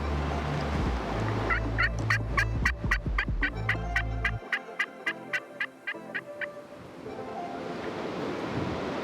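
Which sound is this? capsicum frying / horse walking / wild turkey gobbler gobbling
wild turkey gobbler gobbling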